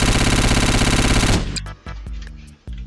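Rapid automatic anti-air cannon fire in Garry's Mod rattles continuously and loudly, then breaks into a few separate bursts with short pauses between them.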